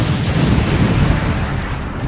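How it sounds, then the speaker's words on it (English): A dramatized explosion from the Gunpowder Plot, with barrels of gunpowder going off, comes through as a loud, dense, sustained roar of rumbling blast noise filling the whole moment with no talk over it. "I heard a mighty explosion"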